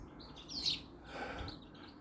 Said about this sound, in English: oh, the birds are all coming in, lads. Let's see now. And they're fighting as usual.